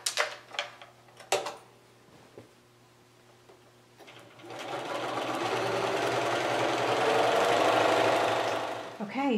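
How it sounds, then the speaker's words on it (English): A sewing machine stitches a row on a quilt, running with a steady buzzing hum for about five seconds after several soft knocks and clicks from handling the fabric. "I'm going to sew down this right side until I get to the very"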